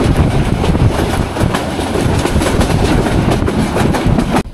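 The Kalni Express runs on rails through rain on its 294-kilometre journey, heard from inside as a loud, steady rumble with a fast, rhythmic clickety-clack of wheels over rail joints.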